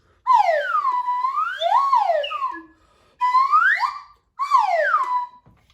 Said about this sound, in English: This is a bag of different sounding whistles.